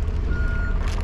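A tug dropping trailers off sounds a steady reversing beep over a low diesel rumble, with some air hiss, somewhat distant on a foggy riverside by the Humber.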